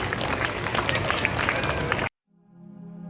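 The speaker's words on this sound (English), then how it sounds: "Let's give them a big round of applause." Audience at a school investiture ceremony bursting into loud, dense applause and crowd noise that cuts off abruptly, followed by a steady musical tone.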